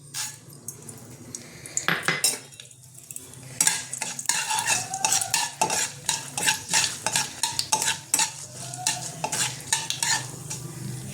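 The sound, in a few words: dry red chilli and black mustard tempering sizzling in oil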